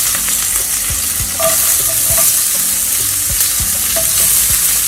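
Onions and red pepper sizzle steadily in a hot pan, a continuous bright frying hiss broken by a few clinks and stirring knocks of a utensil, close and fairly loud with no voices.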